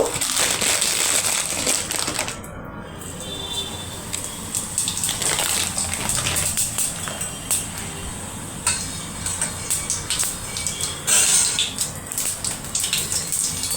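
Whole cumin seeds frying in hot oil in a home kitchen, a steady close crackling sizzle with dense spitting pops that runs continuously throughout.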